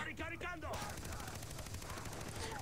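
Rapid bursts of gunfire in the video game Far Cry 3, a dense rattling volley that starts abruptly after a brief moment of other game sound and continues steadily, quiet overall.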